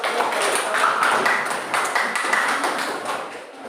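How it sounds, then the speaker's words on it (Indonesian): Classroom applause from students after a group presentation, a dense run of overlapping hand claps of moderate loudness lasting several seconds and tapering at the end. "Beri aplaus"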